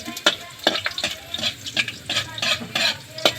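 Garlic frying in a pan, with bright crackling sizzle bursts, close and fairly loud, alone with no talking.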